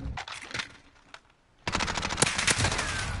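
Rapid automatic gunfire in an online shooter video game, with short bursts early on, a brief lull, then a loud sustained stream of shots close up.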